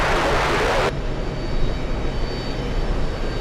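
An Airbus A321 lands on runway 22 Left at JFK with a continuous broadband engine roar at moderate distance. A louder hiss opens the first second, then the engine noise steadies.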